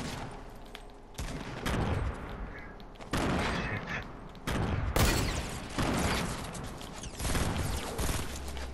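Bursts of video game gunfire from a house fight, several loud volleys of shots and rapid fire arriving in clusters, some sharp and close, with game noise between them and no clear talk.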